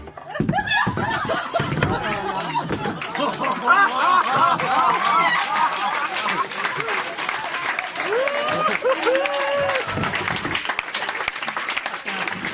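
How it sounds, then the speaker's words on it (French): An audience at a hypnosis show applauds the spectators, with dense sustained clapping, scattered laughter and some voices mixed in after a sharp start, all at a fairly close, steady level. "Applaudissements pour ces spectateurs"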